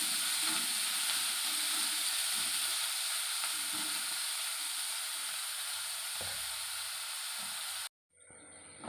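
Onion, green chili and curry leaves sauté in hot oil with a steady, close sizzle and occasional stirring scrapes, cutting off abruptly near the end.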